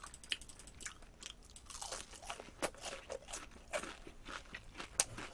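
Crispy fried chicken being chewed up close in a mukbang, a run of sharp, brittle crunches and bites in an irregular rhythm with no talking.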